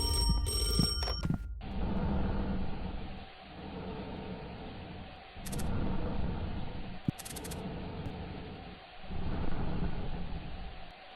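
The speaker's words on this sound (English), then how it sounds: "But as I do, the phone rings again." A telephone rings inside a Roblox horror game, sounding in short high-pitched bursts over a low, droning ambient background.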